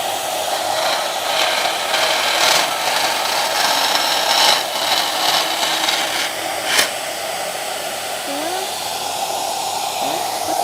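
A router fitted with a profile bit cuts along the edge of an angled wooden piece, producing a steady, loud, close-up whine that runs continuously without talk.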